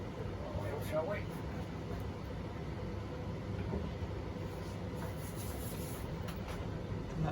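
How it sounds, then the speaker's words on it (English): A tumble dryer runs in the background, a faint, steady low rumble and hum that continues unchanged, with quiet voices and small knocks around it. "I've had to put the tumble dryer on."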